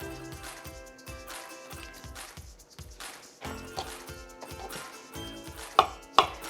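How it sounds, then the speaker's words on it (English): A knife cuts through a banana on a cutting board in a steady series of soft chops, each slice ending in a dull tap against the board, close and fairly quiet. "So I'm just going to slice up a banana."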